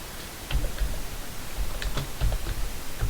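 Keys tapped on a computer keyboard while entering a web search, a loose run of light clicks and ticks at close range with no talking.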